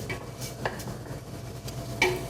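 Rice toasting dry in a pan while two cups of it are stirred, with a few quick scraping strokes of a spoon and light clinks against the pan over a soft background hiss.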